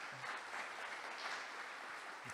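A church congregation applauds the Lord with soft, steady clapping that sounds distant and faint, continuing evenly without voices.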